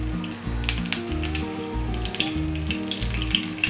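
Mustard seeds, cumin, asafoetida and curry leaves crackle and sizzle in hot oil in a pan, a close, steady spitting fry with scattered pops throughout.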